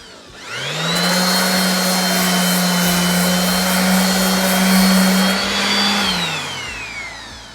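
A random orbital sander hooked to dust collection whines up to a steady, loud electric drone for several seconds, then winds down to a stop, with no voices.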